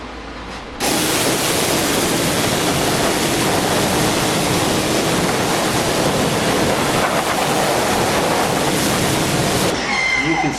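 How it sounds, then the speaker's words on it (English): Strong water spray rinsing the wheels and tires of a Tesla Model during a detail wash, a loud, steady hiss that starts abruptly, runs for about nine seconds and then cuts off. "Now we're going to rinse everything off."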